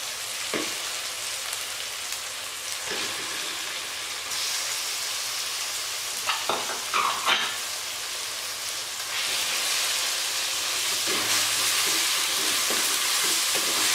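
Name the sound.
chicken frying in a pan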